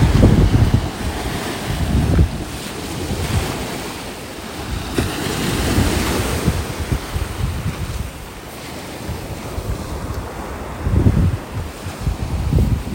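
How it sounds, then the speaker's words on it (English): Gulf surf washing onto a beach in North Naples, Florida, swelling and receding in soft rolling surges, with gusts of wind buffeting the microphone and no voices. "Let him get pulled in by the waves."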